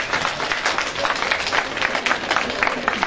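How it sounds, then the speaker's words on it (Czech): Applause from the audience at a citizens' meeting in Varnsdorf, a sustained crackle of many hands clapping at moderate level throughout, without speech on top. "To zaslouží velký potlesk"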